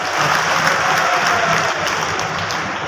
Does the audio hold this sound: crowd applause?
yes